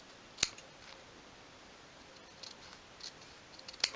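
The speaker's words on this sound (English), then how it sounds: "just snip away each corner" Small scissors snip the corners off a piece of card for a 1/12th scale garden stool model, with two sharp crisp snips near the start and end and a few faint handling clicks between, close and quiet.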